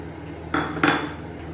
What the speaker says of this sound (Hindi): ये मैंने गोश्त डाल दिया है प्रेशर कुकर के अंदर।